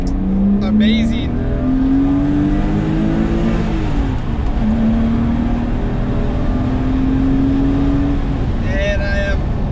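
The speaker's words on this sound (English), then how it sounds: "This thing, the intake noise just sounds like amazing." A BMW M5 E34 engine revs up and settles repeatedly, its intake noise prominent, pitch climbing and falling in long sweeps, loud and close, with brief bursts of higher noise.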